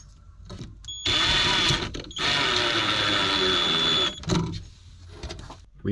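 A cupboard door fitted with a magnetic catch in a camper van build, worked by hand: two sustained mechanical whirring bursts, each lasting a couple of seconds, then a few faint knocks and clicks.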